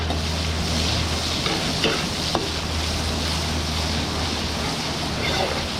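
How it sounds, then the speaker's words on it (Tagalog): Garlic and onion sauté in a pan for bringhe, a continuous close sizzle with a steady low hum beneath and a few faint clicks of stirring. "gigisa na natin yung ating tong bringi mga kaigan"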